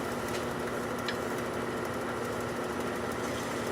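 Wood lathe spinning a turned bowl at about 200 RPM: a steady, close motor hum with a faint rhythmic tick and mechanical rattle, even throughout and without talk.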